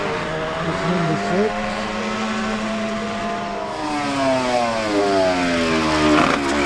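Two racing motorcycles at the Senior Classic TT road race sweep past in close succession, engines rising and falling in pitch as they approach and recede, loud and fairly near, with a commentator talking over them.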